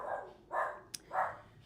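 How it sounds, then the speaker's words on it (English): A puppy barks indoors, three short, close yaps spaced about half a second apart, with a brief sharp click between the last two. "even my puppy is barking"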